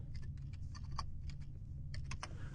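Short bursts of quiet keystrokes on a computer keyboard as a command is typed, with a few taps, a pause, and then a final cluster of keys, all against a low hum.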